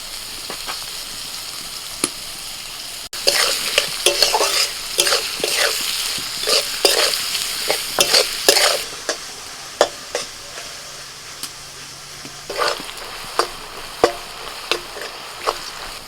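Beans, capsicum, carrot and green chillies are stir-fried in a pan, a close, steady sizzle broken by repeated sharp scrapes and knocks of the spatula.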